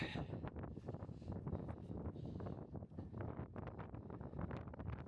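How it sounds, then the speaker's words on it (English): Strong mountain wind near Black Sails in the Lake District buffets the microphone in continuous gusty rumbles and whooshes, loud and close, with no voices. "Right, very windy."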